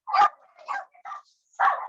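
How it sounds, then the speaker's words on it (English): Four sharp dog barks, close and loud, in an uneven rhythm with brief silences between, heard alone. "They don't even have a reason to be barking."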